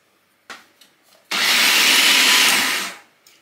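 A food processor whirs flour, salt and sugar together in one loud, steady pulse of about two seconds, with a couple of short clicks before and after.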